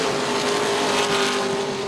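Sportsman race cars run hard around a short oval track, engines blending into a loud, dense, unbroken roar for two seconds.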